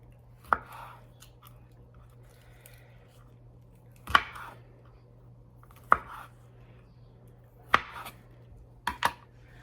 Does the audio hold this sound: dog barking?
no